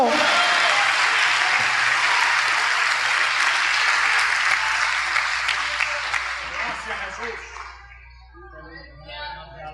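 A church congregation breaks into loud, sustained applause at a sermon that fades out over the last few seconds, with a preacher's voice coming in near the end.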